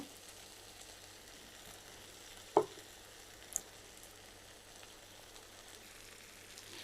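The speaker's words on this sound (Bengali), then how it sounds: "আঁচটা কমিয়ে আমি এগুলো আস্তে আস্তে করে কষিয়ে নিব সুন্দরভাবে।" Potato and eggplant sautéing over low heat in a pan for a dry fish curry, giving a faint, quiet sizzle with one sharp utensil knock and a smaller click partway through.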